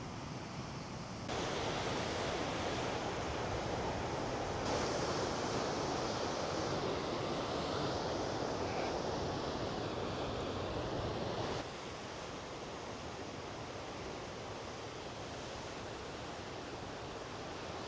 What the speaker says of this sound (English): coming down here to the beach on a day like today with the waves and stuff out there